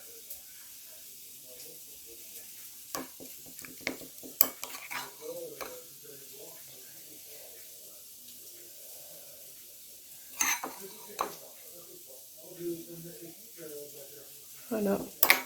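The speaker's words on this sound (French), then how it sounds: "vous prenez votre sauce que vous venez verser délicatement sur la viande" Sauce is poured over roasted meat sizzling in a pan, giving a few short bursts of hissing sizzle amid quiet kitchen handling, with people talking.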